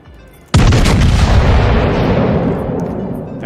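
Heavy battleship main-battery salvo in World of Warships erupting suddenly after a brief lull, a loud, deep booming blast that rolls on with a long, dense rumbling tail, close and dominant with no talk over it.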